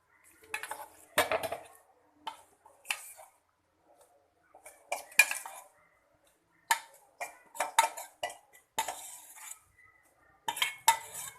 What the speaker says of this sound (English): Now I am transferring this to mixer jar.